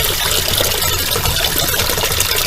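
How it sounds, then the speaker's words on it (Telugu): Tap water gushing steadily into a new LG washing machine, a continuous loud hiss and rush of filling water, close by with no talking. "Tap on."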